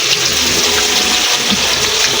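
Fish frying in hot oil gives a loud, continuous close-up sizzle, a dense steady hiss with no breaks.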